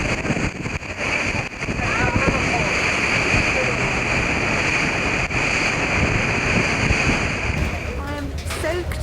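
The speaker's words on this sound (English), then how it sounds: "with the overwhelming roar of the water ringing in my ears" Loud, continuous roar of a waterfall rushes during a boat ride, heavy and broadband with wind buffeting the microphone, holding steady for the whole stretch with a slight easing near the end.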